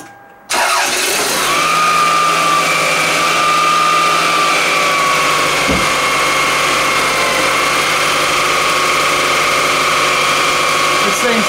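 A truck engine with a coolant leak at an elbow and an odd noise cranks after a short silence and settles into a loud, steady running drone with a whining tone, close by.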